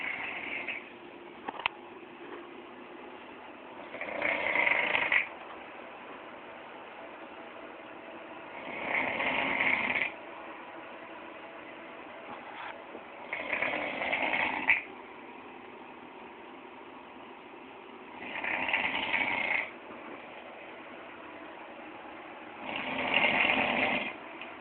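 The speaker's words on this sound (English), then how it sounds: "we're about to listen to some great snoring in this bedroom" Loud snoring in a bedroom comes as five evenly spaced rasping breaths about every five seconds, each a harsh buzzing swell over a faint steady hiss.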